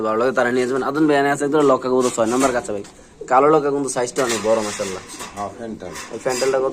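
Pakistani Giribaz pigeons coo in deep, rolling phrases from close by, loud and repeated across the whole stretch, with a few faint clinks in the background and no speech.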